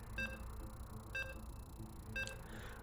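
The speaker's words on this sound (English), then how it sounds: "As you can hear the beeps, we're loading in." Three short electronic loading beeps from a video game, evenly spaced about a second apart, thin and quiet over a low hum with no talking.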